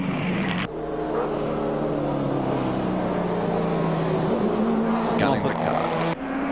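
Race cars including a TAA Mazda RX-7 and Holden Commodores roar along the circuit at the 1983 Bathurst 1000, with loud continuous engine drone and revving throughout, and a commentator talking over the racing noise.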